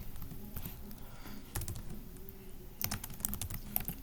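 Quick, light keystrokes on a computer keyboard while searching a location on a map website, with uneven bursts of tapping at close range and no voices over them.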